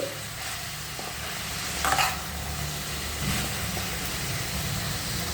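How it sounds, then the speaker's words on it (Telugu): Cabbage and tempering of chana dal are stirred in a pan, soft scraping strokes over a faint steady sizzle, with a couple of sharper utensil scrapes standing out. "ఒక్కసారి మనం పోపు క్యాబేజీ కలిసేలాగా మనం కలిపిస్తున్నాం"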